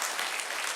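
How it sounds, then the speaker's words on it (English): Audience applause at a public forum in Angelina County, a dense burst of many hands clapping, loud and close, heard alone for under a second. "I don't know if they're clapping for you or for me."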